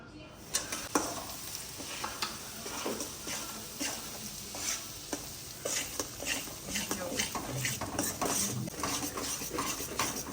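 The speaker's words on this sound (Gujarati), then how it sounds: "હવે પહેલાં આપણે સોજીને શેકી લઈશું" Semolina roasting in a pan for sheera, stirred steadily with a utensil: a continuous soft sizzle with repeated scraping and clinking strokes that stay close and moderately quiet.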